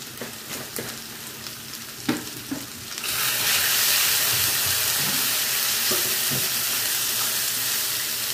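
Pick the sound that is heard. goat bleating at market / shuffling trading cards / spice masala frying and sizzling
spice masala frying and sizzling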